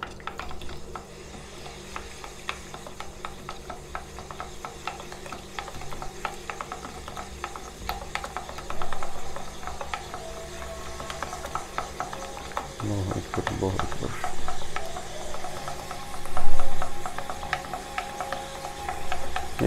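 A spoon stirs coffee and sugar in a small coffee pot of about five cups, giving a steady scraping, clinking rhythm. A louder burst of scraping comes near the end, and there is no talk.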